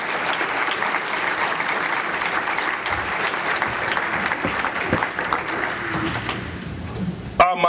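An audience at a Tribe Athletics hall of fame ceremony applauds the inductee's fraternity brothers, a steady dense wash of clapping that holds for several seconds and thins slightly near the end.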